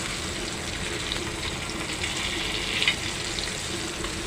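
Fish frying in oil in a pan for a Marathi-style surmai fish fry, a steady dense sizzle that runs unbroken and fairly loud throughout, with a faint clink near the end and no talking.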